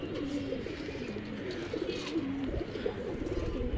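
Pigeons coo softly in a Rajshahi giribaz pigeon farm, a low, overlapping burble of several birds, fairly faint with a busy background hum.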